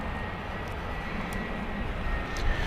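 Aircraft at Gatwick Airport, a continuous broad engine roar that stays fairly steady and swells slightly toward the end, heard alone without talk.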